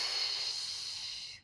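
A long, steady inhaled breath during a beginner Pilates exercise, close and breathy with a hissy texture, fading out at the end with no talk.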